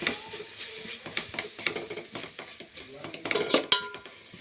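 Vegetables are stirred in a pan with a metal utensil, giving close, irregular scraping and clanking against the pan with a faint sizzle underneath and no talking.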